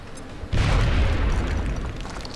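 A frag grenade detonates in the video game XCOM Enemy Unknown, a sudden loud, deep boom that rolls into a long rumbling tail, with no talk over it.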